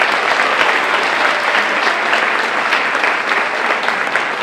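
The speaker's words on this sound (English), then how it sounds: "a big round of applause for all of our coaching staff" At an awards ceremony, a large crowd gives the coaching staff a loud, continuous round of applause, a thick wash of many clapping hands with no talking.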